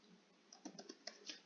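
Someone typing a formula into an Excel spreadsheet on a computer keyboard, with a quick irregular burst of soft, close key clicks following a brief quiet moment.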